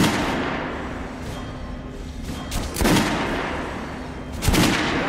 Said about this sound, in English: Look for sparks when you are shooting an armored target.